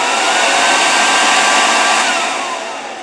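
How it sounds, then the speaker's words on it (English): Main fan of a Nomad 2 compressor starting up and running: a loud, steady rushing whoosh heard alone, holding level before easing slightly quieter near the end. "the main fan starts up"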